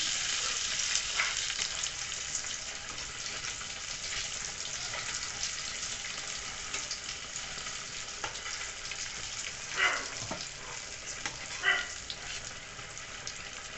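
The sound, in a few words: brinjal slices frying in oil (begun vaja)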